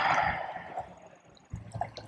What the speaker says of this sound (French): entendre les bruits de la mer qui m'entourent, les petits clapotis de la mer